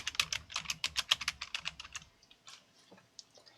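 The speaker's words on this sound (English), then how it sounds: "Simply type in PlatformIO." Rapid keystrokes on a computer keyboard, a quick close clatter of keys for about two seconds, then a few slower, softer taps as the typing trails off.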